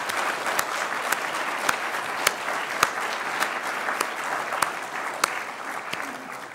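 A conference audience in a large hall gives a sustained, even round of applause, a steady wash of many hands with occasional sharper single claps standing out nearby.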